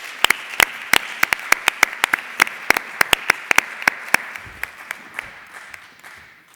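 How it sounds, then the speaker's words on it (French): Applause from a conference audience at a psychiatric research meeting in Montpellier, a scattering of sharp distinct claps with uneven rhythm that thins out toward the end, fairly close and moderately loud with no talk. "On peut l'applaudir également."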